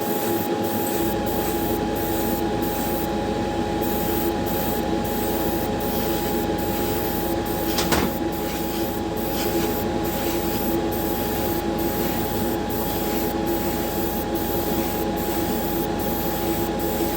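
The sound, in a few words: spray painting a light first coat on Hot Wheels car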